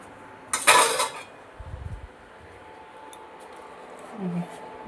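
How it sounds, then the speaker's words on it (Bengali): A metal lid set onto a cooking pot in a home kitchen while potato and pointed gourd curry simmers, giving a bright clatter followed by a soft, low knock and faint scraping. "ঢাকনা দিয়ে ঢেকে দিলাম।"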